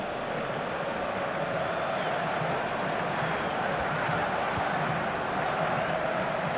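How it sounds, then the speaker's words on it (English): A dense, roaring stadium crowd in the football video game FIFA 16, West Ham versus Everton, holds a constant loud wash of cheering and chanting throughout with no pauses. "And the crowd really enjoying it."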